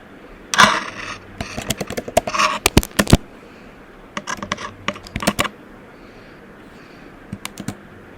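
Java code being written on a computer keyboard gives loud, close, irregular keystroke clicks in clustered bursts, with a few pauses and a quieter stretch near the end.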